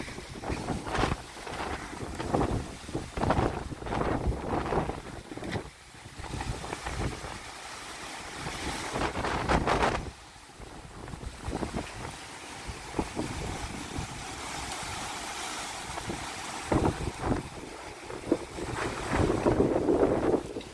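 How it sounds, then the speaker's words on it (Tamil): Strong wind roaring and buffeting close by, gusting in bursts with heavy rumble over waves and water. "சும்மா பயங்கரமா அடிக்குது காத்து."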